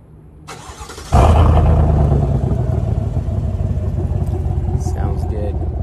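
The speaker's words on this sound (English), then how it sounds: "I'm going to show you in the rear as I start up the vehicle too" A Chevrolet Silverado Trail Boss pickup engine cranks and catches abruptly, then settles into a loud, steady, rumbling idle recorded close up at the rear of the truck.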